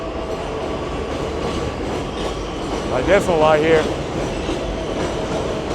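Long Island Rail Road train passing by in Long Island City, Queens, a steady rumbling roar with clattering wheels and a brief squealing whine midway, heard outdoors with someone talking over it briefly.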